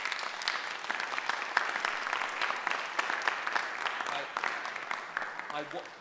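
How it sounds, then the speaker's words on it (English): Crowd at a London marching band parade ceremony breaking into applause, a dense, fairly distant clatter of clapping that stays even before thinning out at the end. "You should all give yourselves another round of applause"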